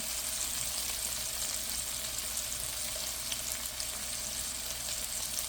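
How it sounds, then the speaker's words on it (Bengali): Bitter gourd fries in a pan with a steady, broadband sizzle that holds at an even level throughout, with no voices over it. "এই করলাটা আমি অন্যভাবে ভাজি করব, একেবারে সোজা।"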